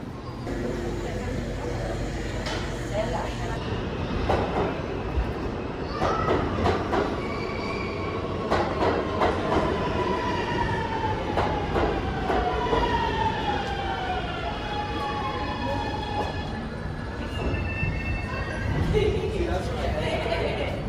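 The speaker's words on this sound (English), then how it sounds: "This is a Brooklyn-bound C local train." A Brooklyn-bound C local subway train in New York City rumbles steadily while its wheels squeal in long rising and falling metallic tones, heard from inside amid speech.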